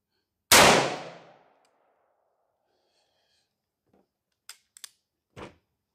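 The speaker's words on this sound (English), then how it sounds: "So let me pop one more shot off here" A single loud gunshot cracks close by, its ringing decay fading over about a second, followed by faint metallic clinks and handling noises as the spent shell drops into a Tacti-Net brass catcher.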